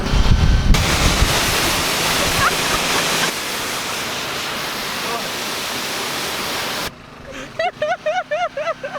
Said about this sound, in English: Looks like you need some power washing.